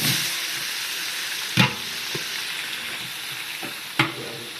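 Onions fry in a large pot of Malabari chicken biryani for a 30 kg wedding batch, a steady close sizzle and hiss with a couple of sharp clanks from stirring.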